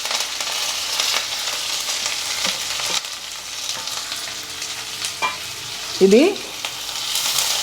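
Sliced onion, green chilies and curry leaves fry in hot oil, a loud continuous sizzle with stirring scrapes, and a brief squeaky clatter near the end; a voice speaks one short word.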